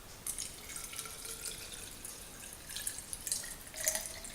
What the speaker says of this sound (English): fill the grease tube itself with water